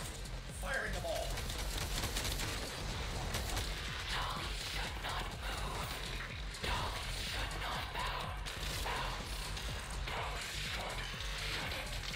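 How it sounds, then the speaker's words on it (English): Repeated mortar fire in the video game Warfarm, a dense run of percussive booms and impacts with a mechanical clatter, loud and continuous throughout. "I've only got a few mortars left. Firing them all."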